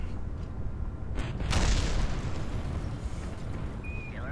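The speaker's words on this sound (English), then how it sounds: "Nice little explosion as punctuation there." A spaceplane crashes and explodes in a video game, giving a deep rumbling boom that swells around the middle and lingers as a low roar before fading under a faint whistle.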